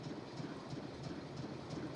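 Train running in the Nancy Drew: Last Train to Blue Moon Canyon game, a steady low rumble with faint rhythmic clickety-clack on rails, moderately quiet and continuous, with no voices.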